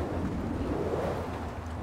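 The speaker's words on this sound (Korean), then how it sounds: "바람 소리 봐." Strong wind roars steadily in the video game Gears of War 4, a low, continuous, moderately quiet rush with no voices.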